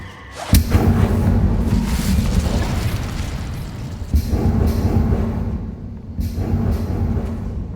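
A loud Incendio fire spell bursts out in Hogwarts Legacy, a close, heavy roaring whoosh. A second and third fiery boom follow, each swelling and then tailing off.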